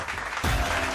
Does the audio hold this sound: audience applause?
yes